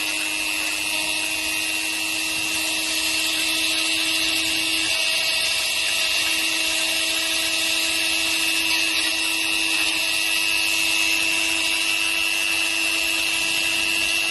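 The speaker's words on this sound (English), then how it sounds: "So I'm just getting a light sand here." Light sanding of a G.I. Joe toy paw with a small rotary tool, a continuous high whine with steady tonal hum running unbroken and close throughout.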